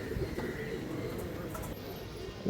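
Soft, low pigeon coos murmur faintly and repeatedly, with a few light chirps above them.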